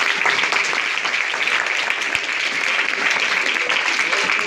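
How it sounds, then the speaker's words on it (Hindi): A church congregation at a Christmas sermon breaks into steady, dense applause that fills the room evenly throughout, with no voices standing out. "वेरी गुड, जोरदार तालियां बजा दें।"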